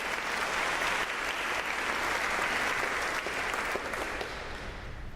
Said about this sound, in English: We all applaud you.